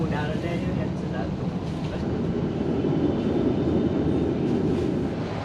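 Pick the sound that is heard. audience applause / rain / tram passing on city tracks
tram passing on city tracks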